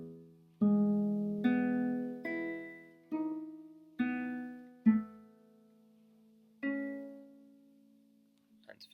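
A guitar melody played in sixth position: about eight single plucked notes ring out one at a time at an unhurried pace, clean and close, each left to decay before the next.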